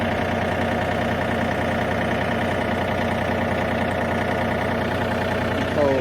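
A John Deere tractor engine runs while backing up, a steady, close, throbbing low rumble with a rhythmic diesel knock that holds evenly throughout with no pauses.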